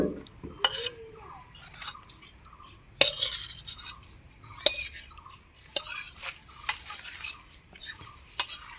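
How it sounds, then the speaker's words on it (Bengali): Curry of shola kochu, paneer, chickpeas and jackfruit seeds being scraped and poured from a pan onto another plate, with close spoon scrapes and clinks in irregular bursts separated by quiet gaps. "এখন তরকারিটাকে অন্য থালার মধ্যে আমি ঢেলে নিচ্ছি"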